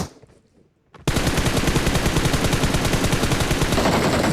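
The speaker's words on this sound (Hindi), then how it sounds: "ये चला रहा होता है मेरे पे फ्री फायर।" Automatic gunfire in the mobile shooter BGMI: after a second of near quiet, a loud, rapid, unbroken stream of shots rattles on to the end.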